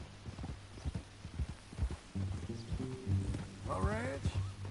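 Horse hooves clip-clop at a slow walk in Red Dead Redemption 2, a soft rhythmic thudding beneath men's conversation and a brief high whistle-like call near the end.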